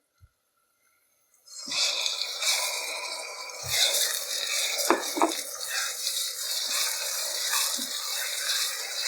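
Sweet and sour chicken sauce with pineapple sizzles in a pan while a utensil stirs it. A soft start opens into steady frying hiss, broken by occasional scrapes and knocks against the pan, close and without talk.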